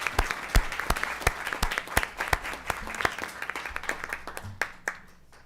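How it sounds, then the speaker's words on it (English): Scattered applause from a small audience at a city council meeting in a meeting hall: individual hand claps ring out distinctly and fairly close, steady for several seconds before thinning out and stopping. "Let's give them a round of applause and say thank you and"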